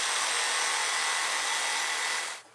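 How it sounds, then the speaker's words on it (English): A reciprocating saw sound effect runs as a loud, steady broadband buzz, continuous and unbroken before cutting off abruptly near the end. "And then along with the Cessna I have a reciprocating saw"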